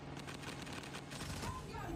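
Gunfight in the mobile shooter Call of Duty: Mobile during a world championship match, rapid gunfire bursts running under a commentator's voice, fairly quiet overall.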